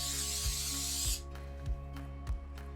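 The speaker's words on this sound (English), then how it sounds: "So I'm going to spray this." Cooking spray hisses into a baking dish in one close burst lasting about a second, followed by a few soft, dull knocks as the can and dish are handled.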